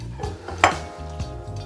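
A bell pepper is dropped into a cooking pot while metal utensils clink against the cookware: a few sharp, close knocks and taps, one louder clatter in the middle, with no talking.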